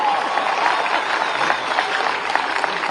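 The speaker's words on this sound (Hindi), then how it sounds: "जोरदार ताली बजाए इसकी आवाज के लिए" A dense, steady roar of audience applause for a singer at a state-level youth festival in Bhopal, loud and continuous from a large crowd.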